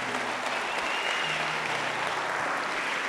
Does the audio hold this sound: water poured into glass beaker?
no